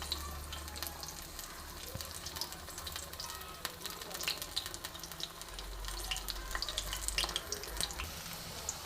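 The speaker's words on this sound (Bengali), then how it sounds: "নিভু মাঝারি আঁচে ভাজা হবে" Banana flower fries in a pan over low-to-medium heat, giving a steady close sizzle with faint crackles and occasional soft clinks, continuous throughout.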